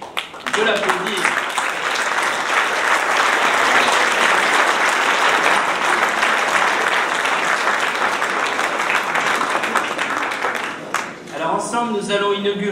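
Loud, dense audience applause at a New Year's wishes ceremony rolls on steadily for several seconds, then tapers off as a voice begins speaking near the end.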